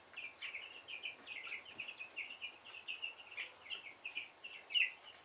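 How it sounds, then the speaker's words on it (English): Young meat bird chicks about eleven days old peep continuously inside a chicken coop, many overlapping high chirps in a steady busy chorus, fairly close and moderately quiet with no talk. "Looking at the little meat bird chicks."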